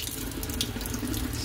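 Water runs steadily from a household tap into a sink, a continuous close hiss and splash with no talk over it.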